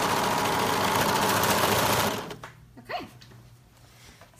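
A serger runs fast and steady through a knit seam for about two seconds, then stops abruptly, followed by quiet handling noises and a brief spoken word.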